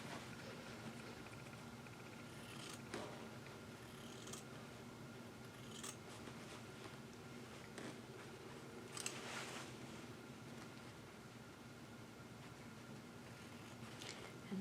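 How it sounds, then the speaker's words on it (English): Scissors snip a small piece of thicker chiffon fabric. Sparse, quiet cuts come one at a time over a long stretch with a faint background hum. "Let's see if we can take this and cut a little piece off real quick."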